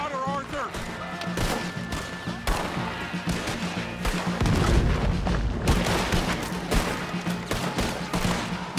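A cannon-and-gunfire battle in Red Dead Redemption 2 rattles with dense volleys of rifle shots and heavy booms, close and continuous, while voices shout over the fighting.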